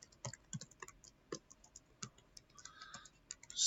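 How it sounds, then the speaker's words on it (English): Clicky keystrokes on a computer keyboard while C code is typed, irregular bursts of taps at close range with short pauses between, fairly quiet with no talking. "You notice I'm typing this all over and over"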